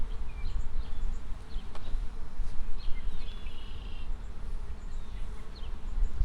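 A swarm of honey bees buzzes around hive frames, a close, continuous droning hum with individual bees whining past, with no talking.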